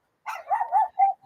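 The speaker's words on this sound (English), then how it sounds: "these dogs are many behind me. They are more than five, and they are pit bulls. I think in German shepherds." A small dog among a group of pit bulls and German shepherds gives a short burst of close barks and yips, three quick calls that end in a faint whimper.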